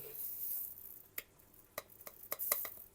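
Sharp clicks and pops spit irregularly over a low background hiss as pizza sauce splatters in a hot pan under a mesh splatter screen, several bursts in quick succession.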